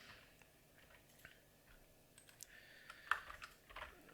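Quiet, close keystrokes on a computer keyboard in an office setting, with irregular soft clicks that grow busier toward the end and no talking over them.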